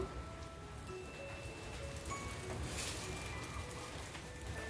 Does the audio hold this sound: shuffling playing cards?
no